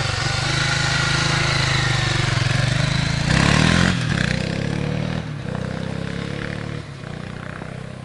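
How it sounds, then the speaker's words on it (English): A 2007 BMW G650 X-Challenge 650 single-cylinder motorcycle engine runs steadily and loud up close, a continuous droning rumble with a slight rise in revs partway through. "Thing's got mountains of torque."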